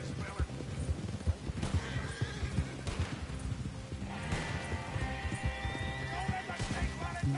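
A horse in a video game whinnies and its hooves clip-clop at a gallop, steady and close, while players talk over the action.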